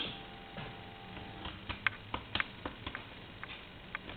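Soft clicks of telephone keypad buttons being pressed one after another at an uneven pace, fairly close and quiet, over a low background hiss.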